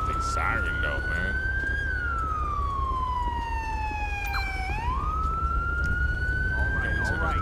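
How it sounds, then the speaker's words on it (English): A police car siren in GTA 5 with the LSPDFR police patrol mod wails loud and close, its pitch gliding slowly up and down in long sweeps over a low engine rumble. "Let's just turn off the siren, though, man."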